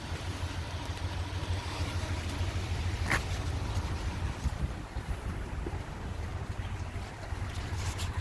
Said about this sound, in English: This is my diesel machine.